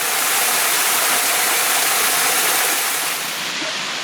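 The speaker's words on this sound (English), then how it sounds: "So this is Federal Falls." Federal Falls, a waterfall on a creek in a small gully in the Blue Mountains, gives a steady, loud, broadband rush of falling water that continues unbroken throughout, close by and with no voices.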